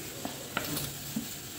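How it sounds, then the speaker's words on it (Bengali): Boiled potatoes tipped into a pan of fried-down spice masala and stirred, giving soft scraping stirs and a few light knocks over a low, steady sizzle, close and quiet, with no talking. "মশলাটা কষানো হয়ে গেছে আমার, এখানে আলুগুলো দিয়ে দিলাম।"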